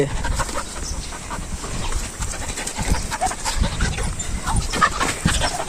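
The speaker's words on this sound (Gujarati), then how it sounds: "शेरू क्यों भौंक रहा है तू क्या मसला है तेरा" A dog pants rapidly and steadily close by, with a noisy outdoor background.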